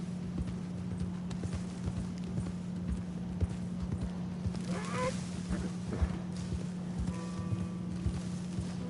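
Horse hooves clip-clop steadily close by near alligators in Red Dead Redemption 2, over a constant low hum, with faint honking calls in the middle and a brief wildlife call near the end.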